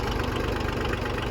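A John Deere 750 tractor engine idles nearby with a steady, even low chugging and a slight knocking pulse, running alone without voices.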